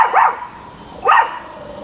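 A dog on the lookout gives two loud, clear barks about a second apart, close by, with quiet between them.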